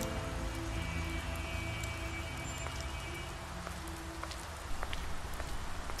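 Steady rain in the video game The Wolf Among Us, a dense even hiss of falling drops with faint scattered patters and a few soft footsteps late on, no voices.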